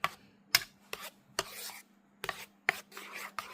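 A spoon scrapes and rubs through thick block-printing colour paste in a container, making short, irregular strokes separated by quiet gaps, close and fairly soft.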